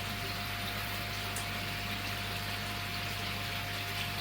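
Water pumped through a pipe into a koi pond filter makes a steady, unbroken rushing hiss with a low hum underneath, continuous and fairly close, with no voices.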